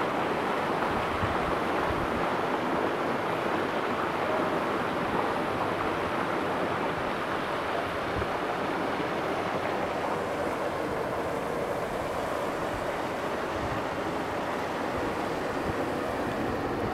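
Steady loud splashing and rushing water at an aquapark at Panthea Holiday Village, a continuous broadband wash with wind-like roughness filling the whole stretch without talk.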